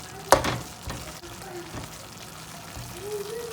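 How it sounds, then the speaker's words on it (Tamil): Ginger tamarind pickle stirred with a ladle in a pan, a sharp scrape at the start followed by quieter sizzling and occasional clinks, fairly faint and close with no speech. "அதெல்லாத்தையும் நல்லா கரண்டியால் சேர்த்து கிளறுங்க"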